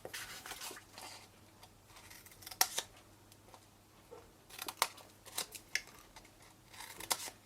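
Paper being cut with scissors while making a tealight box from A4 sheets, a few separate snips and short runs of crisp cutting over a quiet room, fairly close.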